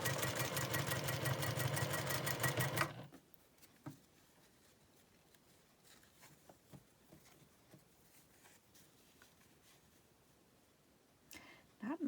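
A sewing machine stitches seams on tiny quilt squares for a Swamp Angel mini block, a loud rapid buzzing run of about three seconds, then near quiet with faint handling clicks.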